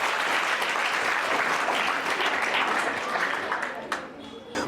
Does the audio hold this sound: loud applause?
yes